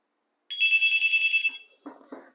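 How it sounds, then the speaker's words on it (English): An analog wall-mounted trim-line hotel telephone rings with one loud, close electronic trill lasting about a second, followed by a couple of short, softer bursts. "When the phone call is coming, it will be ring and the light is on."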